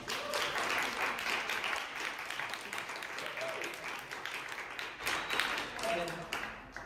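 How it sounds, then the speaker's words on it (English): An audience at a San Francisco panel discussion on avoiding school closures gives the panelists a quick, dense round of applause that fills the room at moderate level, with a few voices mixed in. "We can just give them a quick round of applause."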